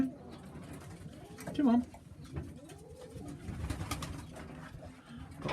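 Young pigeons coo in a loft with low, throaty warbles, one clear coo rising near the middle, while someone talks over them close by.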